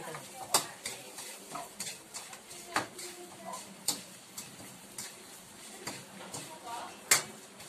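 Sweet and spicy dried anchovies (dilis) with brown sugar are stirred in a pan, a soft sizzle under repeated scraping and tapping strokes of a utensil against the pan at an uneven rhythm.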